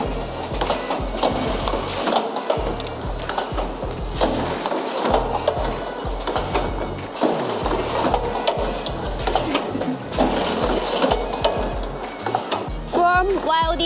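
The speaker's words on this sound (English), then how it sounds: "And this one is Rich's semi-automatic headband welding machine." A semi-automatic headband welding machine joining folding mask headbands runs continuously, a steady whirring, clattering mechanical hum with repeated rhythmic cycles and a brief high squeal at the end.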